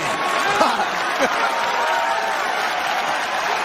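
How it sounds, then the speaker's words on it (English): A crowd at a UFC fight in Brooklyn, New York, applauds in a dense, continuous patter, with a voice talking briefly over it near the start. "An appreciative crowd here in Brooklyn, New York."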